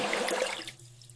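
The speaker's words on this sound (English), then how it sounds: "Flush the toilet." A toilet flushing, a short rushing gush of water that quickly drains away into a faint trickle and low hum, heard close with no voices.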